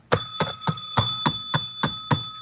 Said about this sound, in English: Ring that fucking bell.